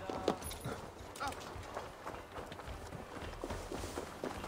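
Donkey hooves clip-clopping at a walk in Assassin's Creed Valhalla, a steady run of soft close hoof steps over ambient game background.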